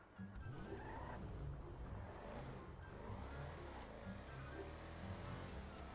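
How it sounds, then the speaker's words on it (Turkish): Ubermacht Rebla GTS SUV driving in the video game GTA 5, a steady engine drone with shifting pitch as it accelerates and revs, continuous and moderately close with no talk. "Şimdi arabayı sürelim, test edelim nasıl bir araç olduğunu hepimiz beraber göreceğiz."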